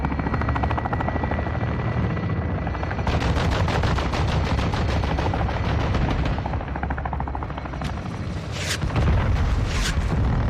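Gunfire in the video game Call of Duty: Modern Warfare 2 (2022), loud bursts of shots over a continuous droning engine rumble like a helicopter, with sharper cracks near the end.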